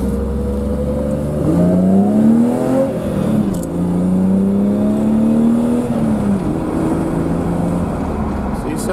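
BMW E30 with an M20B25 inline-six on individual throttle bodies revving hard, its engine note climbing in pitch twice and then dropping, loud and close with a strong intake roar.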